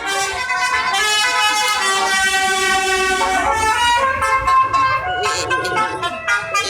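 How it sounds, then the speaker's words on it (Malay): A car horn honks loudly in long sustained tones that shift pitch partway through, close and continuous, with a few short blasts near the end. "Abang yang horn tu mesti abang tengok live Acap tu"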